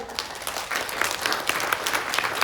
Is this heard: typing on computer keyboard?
no